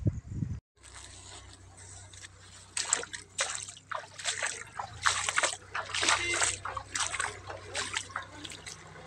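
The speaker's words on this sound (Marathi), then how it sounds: "आज खूप पाऊस आला आणि पाणीच पाणी झालं आहे" After heavy rain, floodwater covers the ground, with drips, trickles and small splashes coming in irregular bursts at close range, faint and under a soft background hum.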